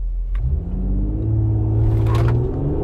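A 2019 Mercedes-AMG GLE 43 Coupe accelerates hard from a standstill, its engine note rising steadily in pitch and loudness from inside the cabin, with a gear shift near the end.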